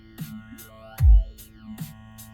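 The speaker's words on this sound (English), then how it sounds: "So the vocoder sounds like this." Vocoder effect on a synth pattern in FL Studio Mobile, a robotic talking-like tone with pitch sweeps and short bursts, one heavy low thump near the middle, moderately loud with no other voices.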